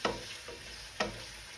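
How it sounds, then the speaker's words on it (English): Meatballs browning in a pan, with a steady frying hiss and a few sharper bursts as they are moved or turned. "So they're browning off nicely."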